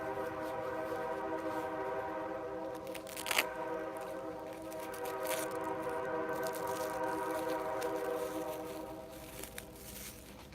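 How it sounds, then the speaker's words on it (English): Train passing through a wilderness area, a long steady rumble with tonal ringing bands and a few brief squeals or clanks, heard at a moderate distance and fading slightly toward the end. "That train coming through means it's about that time."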